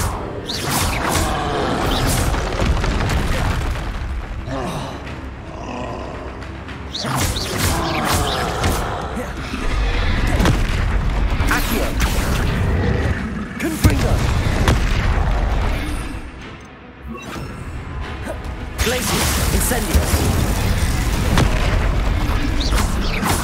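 Loud, dense booms and crashes from Confringo fire-blast spells in the video game Hogwarts Legacy fill the scene, layered over game music and effects with repeated heavy blasts.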